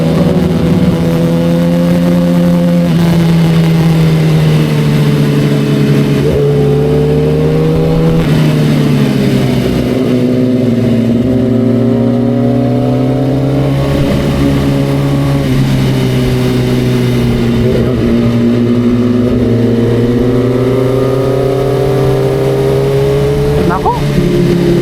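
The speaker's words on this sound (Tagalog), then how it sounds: "Dalawang kotse." Two cars driving past on a mountain road amid a constant loud engine drone from a nearby motorcycle, pitch rising and falling as the engines rev; wind rush throughout.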